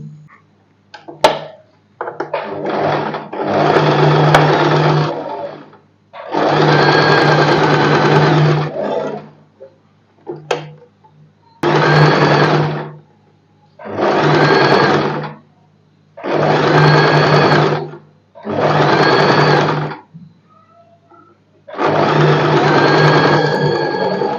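A sewing machine stitches blouse fabric pieces together in repeated bursts of loud, close motor whir and needle chatter, each run lasting a couple of seconds, separated by short pauses and small handling clicks.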